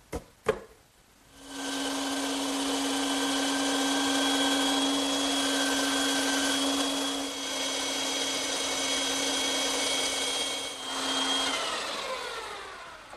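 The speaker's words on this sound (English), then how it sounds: "now I can return to the bandsaw and cut those shapes out." A bandsaw cuts wooden armrest and feet shapes, a sharp tap before the motor spins up into a loud steady whine with a high tonal ring, dipping slightly midway and easing down near the end.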